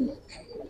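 Caged pigeons at a pigeon farm coo softly, a low murmuring coo close by, brief and fairly quiet.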